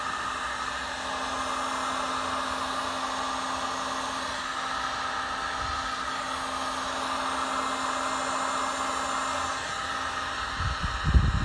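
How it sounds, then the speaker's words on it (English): A heat gun blows with a steady, loud, even hiss while shrinking heat-shrink tubing over a clear tube and spark plug wire on a DIY spark tester, with a few low knocks near the end. "I'm going to take my heat gun"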